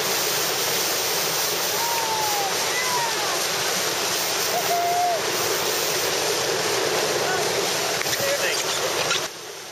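Rapids on the Rogue River in Oregon roar as a dense, unbroken rush of whitewater, loud and close, with a few faint higher calls above it before the sound cuts off abruptly near the end.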